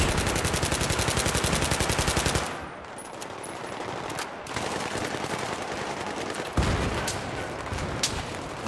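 Gunfire in Battlefield 3 during a team deathmatch on the Azadi Palace map: a loud, rapid automatic burst lasting about two seconds, then dense continuing battle noise with scattered shots and distant automatic fire.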